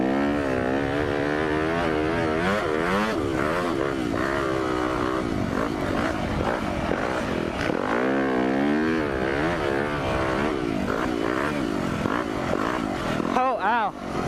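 A KTM 350 motorcycle engine while riding in circles with light clutch use, a steady buzzing drone that rises and falls in pitch as the throttle opens and eases, close and continuous, with a voice talking over it.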